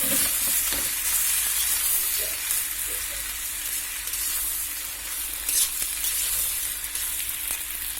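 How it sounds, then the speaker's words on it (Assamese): Rice frying in a pan with whole spices and cashews, a continuous dense sizzle and crackle with faint scraping of stirring throughout, close and steady. "এতিয়া ভালদৰে চাউলটো ভাজি ল'ম ধুনীয়াকৈ অলপ দেৰি।"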